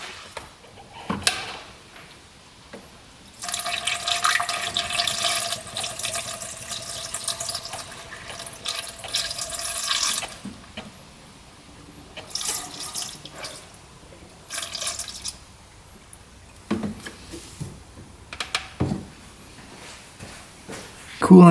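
Coolant is poured into the radiator of a Kubota diesel UTV in bursts of splashing, gurgling liquid, several pours separated by pauses with quieter handling noises and some talk between them.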